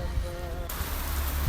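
Steady rain pouring down outdoors at home, a dense close hiss of drops on surfaces that swells slightly louder partway through, with no other sound standing out.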